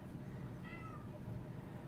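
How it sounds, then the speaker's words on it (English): A pet cat gives one short meow in a quiet indoor room, faint and brief against a low background murmur. "Is that my cat?"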